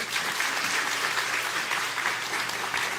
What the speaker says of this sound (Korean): 우리 박수 한번 가죠.